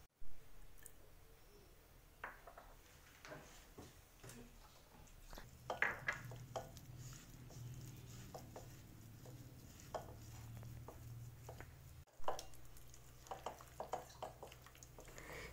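A thick mushroom batter of cornflour, rice flour, salt and spices is mixed by hand in a bowl. It makes faint, irregular squishing and stirring noises, with occasional soft knocks and scrapes against the bowl.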